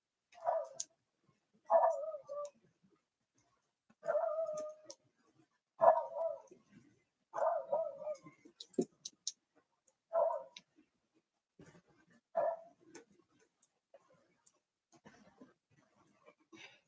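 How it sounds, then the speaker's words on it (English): Female schnauzer dog barking from across the street, distant and faint, in short bursts of several barks repeated every couple of seconds with quiet gaps between. "there's a dog across the street. She just loves to bark at everybody and everything."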